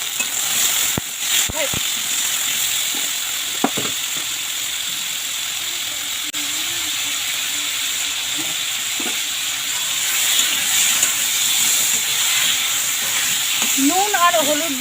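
Salt and turmeric fry in hot white oil, a steady loud hiss and sizzle running throughout, with a few clinks of a utensil and a voice talking over it near the end.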